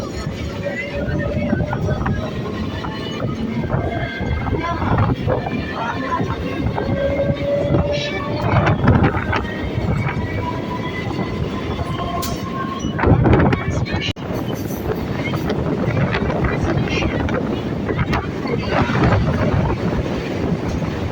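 A crowded local train on the Barasat to Canning line rolls along at full volume, dense wheel roar and rattling filling every moment, with a sharp burst of clatter midway and people talking faintly underneath.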